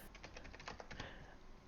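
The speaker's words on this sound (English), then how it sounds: "I can't read it when I'm typing" Rapid clicks of fingers typing on a computer keyboard, a quick burst of close, light keystrokes over a faint hum, alone with no voices.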